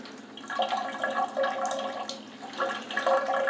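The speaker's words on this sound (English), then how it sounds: "I'm just gonna fill it up a little bit with some water here." Water pours steadily into a vintage 1970s ERTL toy tanker truck, a close, bubbling trickle with small splashes that swells and eases over a few seconds, with no talking.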